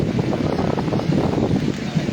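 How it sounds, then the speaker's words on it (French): Steady wind rushes and buffets the microphone in a continuous low roar, loud and close, with no voices. "Et maintenant, il y a le vent qui se lève."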